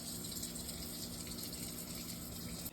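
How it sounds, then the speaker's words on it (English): Water poured into a pot for a double boiler to melt candle wax, a steady close gushing stream running without a break, fairly loud, with no voices. "And let's just add a little bit more water."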